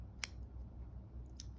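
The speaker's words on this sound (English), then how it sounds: "And then I'm going to trim the end down here." Two quick snips of scissors cutting the yarn end on a small crocheted amigurumi heart, close and crisp, spaced about a second apart over a quiet background.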